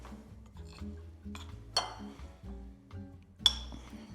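Seasoned artichoke stuffing being mixed in a bowl: soft scraping and stirring, with a utensil clinking lightly against the bowl and two sharper knocks, close and fairly quiet, with no talking.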